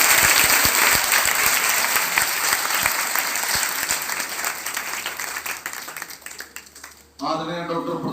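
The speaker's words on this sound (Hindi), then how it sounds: "जोरदार तालियां बजाओ जयंत सर जी।" Loud, dense applause from a gathered audience honouring a respected guest, broad hand-clapping that slowly thins and fades, then a voice comes in at the end.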